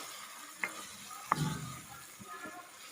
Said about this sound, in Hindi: तो अभी इन सारे मसालों को इसके अंदर थोड़ी देर के लिए पकाएंगे।